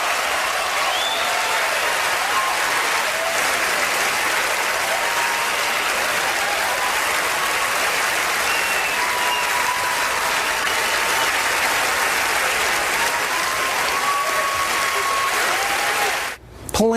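A large audience at an awards event applauds and cheers steadily for a long stretch, a dense, loud, continuous wash of clapping with scattered shouts, cut off abruptly at the end.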